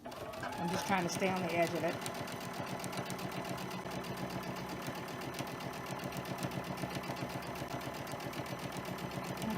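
A sewing machine runs steadily, stitching the seam of a quilted heart-shaped mug rug, its rapid mechanical chatter continuing throughout while someone talks briefly over the early part.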